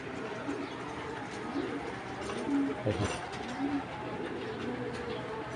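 Soft, low coos from a foreign-breed racing pigeon on a pigeon farm repeat a few times against a quiet background hum, close by and gentle.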